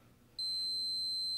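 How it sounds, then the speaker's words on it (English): A ValorStat Plus fireplace remote receiver gives a single sustained, high electronic beep about a second long after its reset button is pressed, clear and alone over faint background hiss. "push the reset button in with a sharp object and listen for one short and one"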